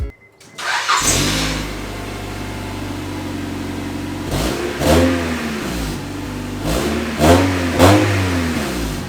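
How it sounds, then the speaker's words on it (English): A Honda Prelude on its stock exhaust starts up, settles into a low idle, then revs in three rising blips, close and loud. "here is the stock sound of the Prelude when I first got it."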